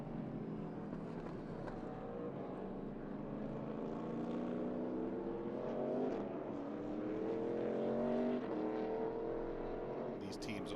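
Race cars of the ARCA Menards Series West lapping Sonoma Raceway: a steady, sustained engine drone with rising and falling harmonic tones as cars pass, continuous throughout, with a commentator's voice over it.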